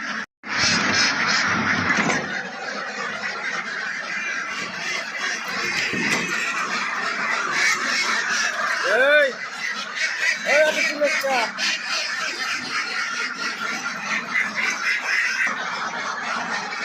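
Egg-laying ducks raised on a small farm quack in short nasal bursts around the middle of the clip, over a busy background of other fowl and what may be a voice.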